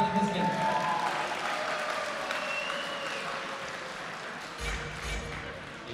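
Sports fans in an arena applaud a player back in the lineup, a moderately loud, even clapping that carries on under a faint background tone, with a low thump near the end.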